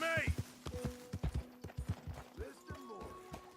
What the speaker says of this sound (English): Arthur, get that horse out of here.